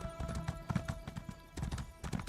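Rapid rhythmic hoofbeats of a horse galloping in Elder Scrolls Online, steady and close, with a game-like soundtrack texture and a faint drone underneath.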